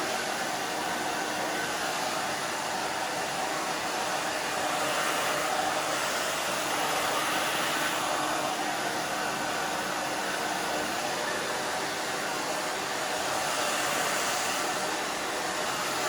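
A hair dryer blows steadily and loudly throughout while hair is blow dried during a short bob haircut at a salon, with only faint hints of voices beneath.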